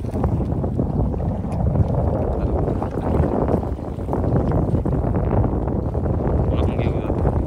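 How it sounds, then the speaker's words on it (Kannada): Strong wind roars steadily across the microphone on a fishing boat at sea, a loud, unbroken rumbling rush with water churning underneath for the whole stretch. "ಗಾಳಿ ಜೋರಿತ್ತು ಇವತ್ತು."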